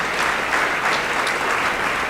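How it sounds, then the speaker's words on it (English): Sustained applause from an audience at a high school signing day honouring coaches and student athletes, a steady, dense wash of clapping throughout. "Let's give one final round of applause to our coaches and the student athletes as they make their commitments"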